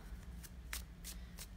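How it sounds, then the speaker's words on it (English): A deck of tarot reading cards being shuffled by hand, giving repeated crisp riffling bursts at a steady rhythm, close and fairly quiet, with no one talking. "While I'm doing the shuffling"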